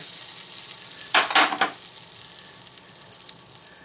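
Oil sizzles steadily in a pan while a SPAM omelet fries, close up, with a brief louder burst of crackling and stirring near the middle before settling back to a soft hiss.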